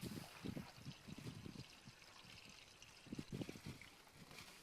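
Water trickles from a freshly opened hose valve at an off-grid desert laundry setup, coming in faint, uneven spurts and gurgles that surge, fade and return.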